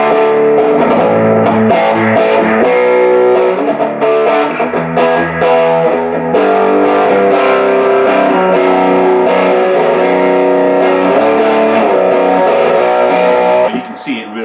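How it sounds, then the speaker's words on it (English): An electric guitar plays through a Paul Cochrane Timmy V2 overdrive pedal with the gain around three o'clock, giving a loud, snarling high-gain distortion tone with sustained chords and ringing notes, ending with a brief noisy tail. "You can see it really snarls, so it's a nice distortion sound."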